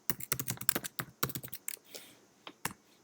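Close, crisp clicks of fingers typing on a computer keyboard come in quick bursts of keystrokes, then thin out to a few scattered taps with short pauses.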